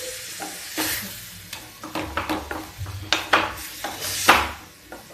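Bottle gourd bharta fries and sizzles in a pan while a utensil stirs and scrapes it, producing close, irregular knocks and scrapes over a steady sizzle, with a brief spoken word.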